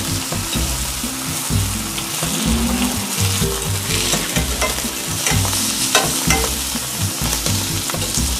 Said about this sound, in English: you want to fry the cheese and the salami